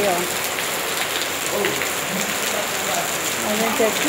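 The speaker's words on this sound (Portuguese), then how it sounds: "De repente, formou esse temporal. Tá essa chuvona aí," A heavy rainstorm roars steadily over a riverside fishing spot, a dense continuous hiss of pouring rain with someone speaking briefly beneath it.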